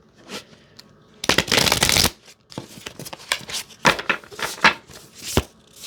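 Quantum Oracle cards are shuffled by hand in close, crisp bursts, one long riffle followed by a string of shorter slaps and flicks as cards are pulled from the deck.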